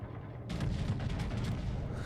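Naval guns in World of Warships fire high-explosive shells during a defense of Naval Station Newport, a sudden heavy boom after a brief quiet, then a rumbling low roll of overlapping blasts without any talk.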